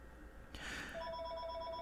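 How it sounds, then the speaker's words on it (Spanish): A telephone rings indoors, a short electronic trill starting about a second in and holding steady, fairly quiet and alone with no talking. "voy, a cortar tanto porque están llamando teléfono"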